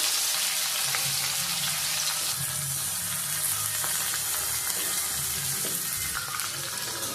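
Chopped onion frying in oil with bay leaves and dried chillies for a potato and cauliflower curry, a steady close sizzle with watery hiss throughout, no voices.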